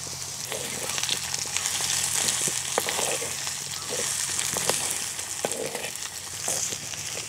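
Chopped carrot and bean pieces frying for wheat rava upma, a close steady sizzle with occasional clicks of stirring in the pan, without speech.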